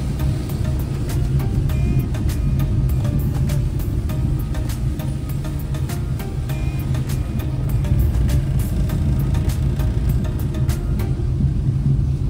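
A car drives along an unpaved dirt road toward Devkund waterfall during monsoon, giving a steady, loud engine and road rumble with faint rattles throughout and no pauses.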